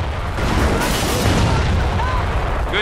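Heavy artillery fire and explosions destroy an 88 battery in the Company of Heroes war video game, a dense, sustained rumble of booms and blasts filling the whole stretch, with a brief sharp crack near the end.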